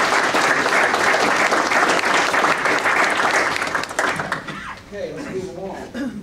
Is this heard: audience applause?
yes